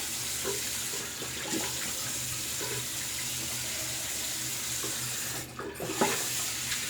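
A tap runs cool water steadily into a sink, a soft, even splashing stream heard alone at moderate distance, with a brief interruption near the end.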